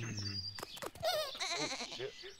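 Cartoon sheep in the Home Sheep Home Farmageddon video game let out wavering, vibrato bleats, several in quick succession for about a second and a half, following a short stretch of tonal game sound.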